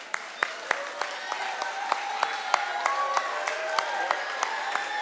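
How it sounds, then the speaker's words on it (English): Children's church congregation applauding at a Thursday service, a steady patter of many hands with sharp individual claps standing out, moderately near, with voices murmuring underneath. "Let's clap hands for them."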